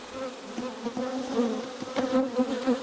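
Bees buzz close around a beekeeper in a steady, wavering drone, individual insects swelling louder as they fly past.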